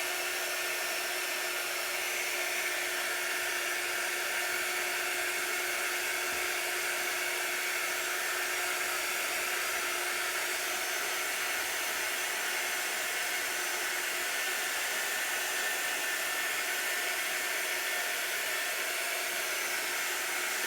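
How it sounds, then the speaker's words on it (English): A handheld quick dry tool, much like a hair dryer, blows a constant high, hissing stream of air over chalk paste ink, steady and close for about twenty seconds with no talk. "This is our quick dry tool."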